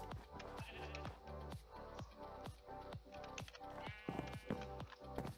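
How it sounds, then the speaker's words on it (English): Sheep in the Minecraft video game give repeated blocky bleats over a steady rhythmic pattern of game sounds, moderately loud and continuous throughout. "of course we have sheep because you gotta have sheep"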